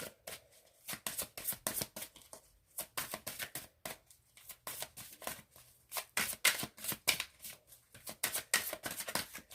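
Tarot cards being shuffled and drawn by hand, a run of quick, crisp riffling and flicking bursts with short pauses between them, close and fairly quiet with no voice.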